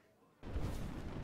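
An Arcane Explosion spell from a video game goes off as a sudden low boom after a quiet moment, then a rumbling burst that lingers briefly at moderate volume.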